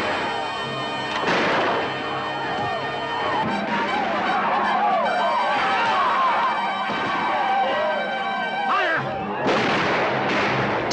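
Gun battle from a Davy Crockett film, with old-fashioned reloadable rifles firing in a dense, continuous barrage of loud shots and crashes alongside a military ambush, building again in a burst near the end.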